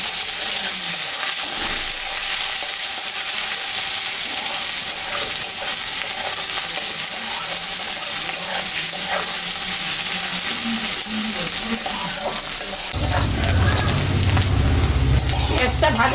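Chopped onion, ginger and green chilli frying in oil with mustard and five-spice seeds for a vegetable chorchori, a loud continuous close sizzle with stirring, briefly under talk, then a sharper burst of frying near the end.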